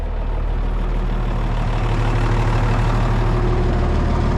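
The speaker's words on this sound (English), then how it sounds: "I think we're going to shut the tractor off" An older manual tractor engine idles close by, a loud, steady low rumble with constant chugging and no pauses.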